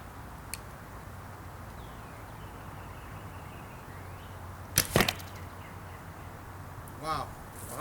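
Arrows loosed from a Two Wolves Archery Sandman recurve bow, 40 pounds at 27 inches, with clear glass and walnut limbs, strike a target in a couple of sharp, close impacts amid quiet outdoor background.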